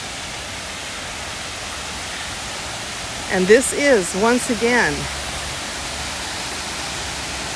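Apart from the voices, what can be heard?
waterfall at Hayden Falls nature preserve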